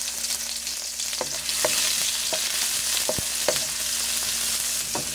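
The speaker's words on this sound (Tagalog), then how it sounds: "Okay, lunod na natong sibuyas ug ahos." Chopped onion and garlic sizzle steadily in a tablespoon of hot oil in a home kitchen pan, with a constant frying hiss and occasional clicks of a utensil stirring, close up and with no talking.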